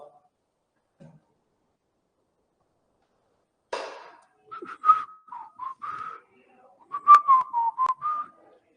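A person whistles during a maths lesson on speed, time and distance: a run of short, clear, tonal notes, close and fairly loud, after a few faint sounds in a quiet room.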